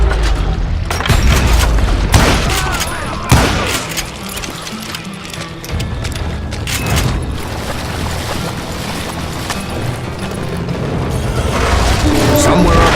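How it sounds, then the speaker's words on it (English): Gunfire from the Wild West shooter Call of Juarez: Gunslinger comes as a dense, ongoing volley of booming shots and rattling bursts. The shots come close and loud, layered over a busy game soundscape. "a fusillade of bullets come raining down from on high"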